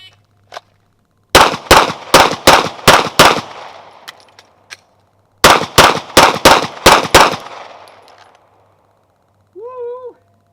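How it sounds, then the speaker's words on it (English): Glock G45 pistol fired rapidly in the El Presidente drill on a range: two quick strings of six loud, sharp shots with a brief slide-lock reload pause between, echoes trailing after, then a short electronic timer beep. "shoot my gun empty, reload, and 222"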